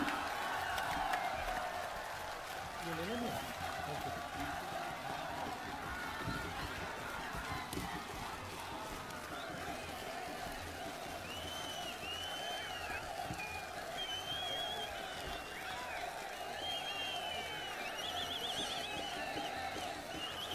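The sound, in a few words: crowd applauding to welcome Rahul Gandhi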